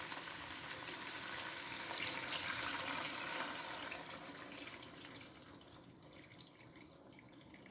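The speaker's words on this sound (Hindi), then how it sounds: "अब इस यखनी को मैं इसमें शामिल करूँगी।" Yakhni broth poured into a pot of mutton paya, a faint steady liquid stream that swells and then trails off gradually.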